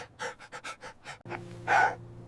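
A Border Collie pants heavily, a quick run of rhythmic breathy huffs at close range followed by a louder, rougher exhale, with no one talking.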